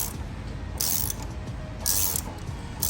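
A ratchet clicks steadily while turning the installer bolt to press a harmonic balancer onto a Ford 302 V8 from a 1966 Mustang, with close rapid pawl clicks and two louder surges as the handle swings.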